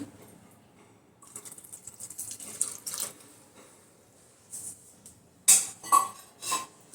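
Tea water is poured into a pressure cooker holding chickpeas with turmeric and amla pieces, giving short splashing pours and clinks that come close and loud in the second half after a quieter start.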